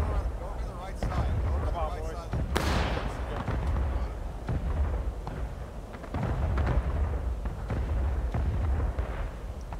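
Musket volleys crackle through a Civil War battle in War of Rights, with dense overlapping shots and booms near and far while a voice talks over the continuous din.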